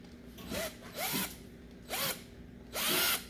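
A power drill bores through plastic caps for a DIY aquarium air manifold in four short whining bursts, each rising in pitch as the bit bites and spins, separated by brief pauses, close and fairly loud.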